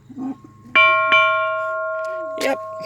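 An old bell at a small country church in Pine Creek Township, Clinton County, Pennsylvania, struck twice with long ringing decay that overlaps, close and loud, followed by a brief voice near the end.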